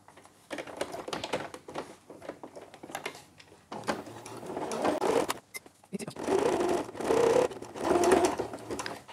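A sewing machine stitches a zigzag seam on a bra, running in several bursts with short pauses between them, close and fairly loud, with no talking.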